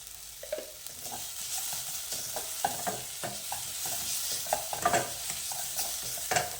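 Onion sautéing in a pan, a soft sizzle broken by repeated stirring scrapes and clicks at an irregular rhythm, close and fairly quiet.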